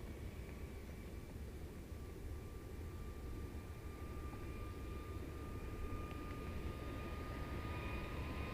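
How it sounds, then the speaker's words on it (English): A Singapore Airlines Boeing 787 Dreamliner lands after a flight from Singapore, a steady distant jet rumble and hiss holding at an even level throughout, with a faint high whine above it and no voices. "Got a Singapore Airlines Dreamliner coming in."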